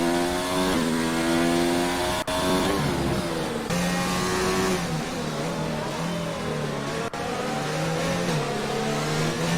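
A Formula 1 car in F1 2019 on the Belgian Grand Prix back straight, its high-pitched engine screaming loudly and steadily with rising gear sweeps and brief shift breaks, no talk over it.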